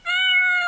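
A cat lets out one clear, sustained meow, close and loud, standing alone without any talking.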